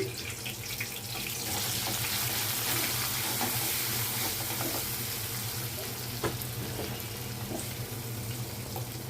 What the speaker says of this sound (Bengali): তেলে পেঁয়াজ কুচি দিয়ে দিলাম